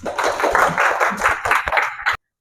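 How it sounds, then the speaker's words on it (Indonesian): A classroom of students claps together for about two seconds in a loud, dense burst of many hands that stops abruptly. "Oke, boleh kasih tepuk tangan, Nak?"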